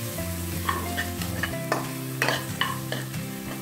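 A spoon scrapes and stirs through thick masala of chilli, coriander and turmeric powders in a hot pan for sprouts sundal, with a steady sizzle underneath and irregular scraping strokes, close up.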